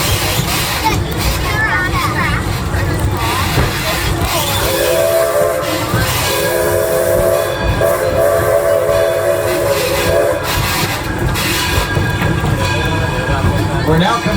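Edison No. 1 train at Greenfield Village running steadily with loud rolling rumble and clatter of the cars, a sustained whistle blowing for several seconds midway, while a guide's voice talks over it.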